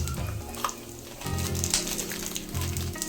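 Green chilies frying in a pan for chutney give off a steady, close oil sizzle, with a few brief stirring clatters and no voices.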